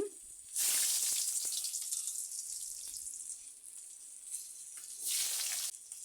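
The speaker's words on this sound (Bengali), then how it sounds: "এ তেলের মধ্যে আমি প্রথমে আলুগুলো দিয়ে দিচ্ছি" Potatoes dropped into hot leftover oil from frying fish sizzle and hiss loudly in a pan, with a fresh burst of sizzling at the start and another near the end, no voices.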